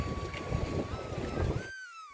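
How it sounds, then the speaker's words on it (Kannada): A ferry boat carrying passengers out to Vivekananda Rock churns across the sea with a constant engine drone and wind buffeting close to the microphone, a thin whistle-like tone sliding above it. "ಈಗ ಬೋಟಲ್ಲಿ ಅಲ್ಲಿ ವಿವೇಕಾನಂದ ರಾಕ್ ಅಂತ ಹೋಗ್ತಾ ಇದ್ದೀವಿ"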